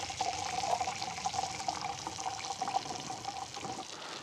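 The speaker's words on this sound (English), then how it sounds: "pouring coffee" Coffee poured from a brewer at an outdoor campsite, a continuous close liquid stream with a ringing tone as the vessel fills, steady for a few seconds without speech.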